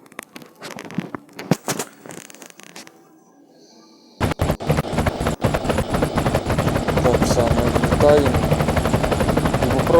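Helicopter in the Brick Rigs video game: a loud, dense rotor and engine roar fills the second half, following sparser clattering bursts and a brief lull early on.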